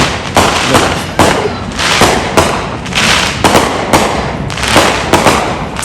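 Fireworks and firecrackers bursting at a July 4th barbecue, a rapid run of loud, close booms and crackling pops following one another almost without pause for several seconds.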